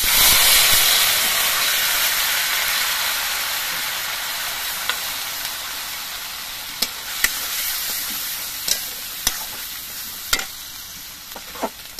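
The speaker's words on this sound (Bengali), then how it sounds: "এবার এর মধ্যে আমি ঘষে নেওয়া পেঁয়াজগুলো দিয়ে দিচ্ছি।" Grated onions hit hot oil with reddened fried cumin seeds: a loud, steady sizzle that slowly fades, with a few sharp crackles and pops near the end.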